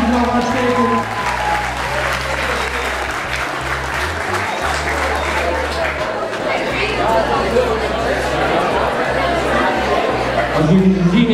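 Secondary school audience applause in a crowded hall, dense continuous clapping and cheering with a low droning tone and voices mixed throughout.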